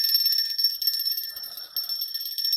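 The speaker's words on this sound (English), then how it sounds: "Let's ring our bells" Small bells ring together in a continuous, bright metallic shimmer with a steady tone, sustained and fairly close throughout, with a brief dip in the middle before the ringing swells again.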